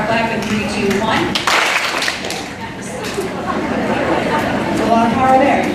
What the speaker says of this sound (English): let's give them a power clap in 3, 2, 1